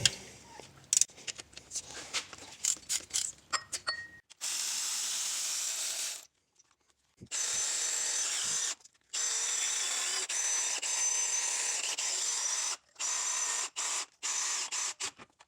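A power tool drives a 10 mm hex bit on the tensioner pulley bolt of a Toyota 3.4L engine during timing belt work, with loud whirring bursts broken by pauses and ratcheting clicks and metallic taps between them.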